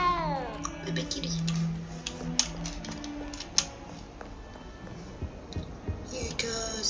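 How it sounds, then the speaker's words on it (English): Cat meowing in a video game, a short high meow near the start, followed by clicking and tapping sounds, with a voice talking over parts of it. "I'm gonna go pet the kitty one more time for good luck."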